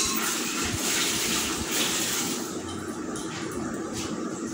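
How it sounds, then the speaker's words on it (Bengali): Cold water is poured from close by into a pot of cooked, browned meat curry. A steady rushing, splashing pour runs for about four seconds, easing slightly in volume partway through. "কষা হয়ে গেছে, এবার জল দিয়ে দিচ্ছি"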